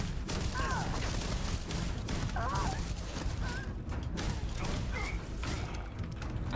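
Gunfire in Starfield: Shattered Space, with thuds and rapid bursts running over dense game noise throughout, while voices chirp and talk intermittently on top.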